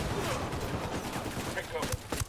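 Gunfire in Ghost Recon Wildlands, a dense crackle of shots throughout that sharpens near the end, close and loud, with voices talking over it.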